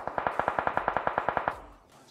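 Rapid automatic gunfire from PUBG Mobile, about fifteen evenly spaced shots in a fast steady burst, loud and close, followed by a brief fading echo with no talk over it.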